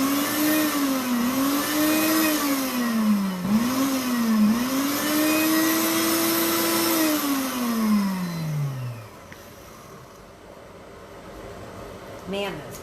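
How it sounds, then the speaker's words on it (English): A Pampered Chef Quick Cooker blade spins loud and steady while grinding pesto, its whine rising and falling before winding down near the end into a quieter kitchen. "this blade spins so fast"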